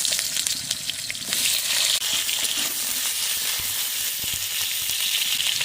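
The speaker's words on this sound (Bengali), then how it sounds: "মাছ ভাজা তেলের মধ্যে আলু ভেজে নেবো" Potatoes fry in oil left over from frying hilsa fish, a constant close, loud sizzle with light clinks and stirring.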